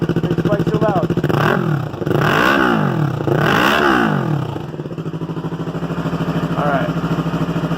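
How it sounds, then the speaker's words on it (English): A loud race motorcycle engine idles with a steady rumble, then revs up twice in quick rising sweeps before settling back to a rough idle. "I'm going to let her run for a little bit."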